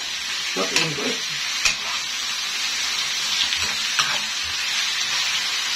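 Dried fish frying in oil that coats a pan, a constant close hiss with a few soft pops and faint scraping, steady and fairly loud.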